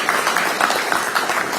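An audience at a political gathering applauds with sustained, even clapping throughout.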